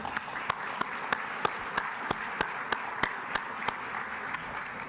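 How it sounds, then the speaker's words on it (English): An audience at a university conference opening applauds itself, a soft, distant wash of clapping with one nearby clapper striking in a crisp, even rhythm. "Please join me in giving yourselves a round of applause."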